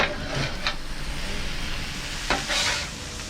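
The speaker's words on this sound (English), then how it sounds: "I'm gonna go ahead and give it another stir." Sausage for jambalaya sizzles in a hot pan under steady frying hiss, with a few scraping stirs of a utensil against the pan close by.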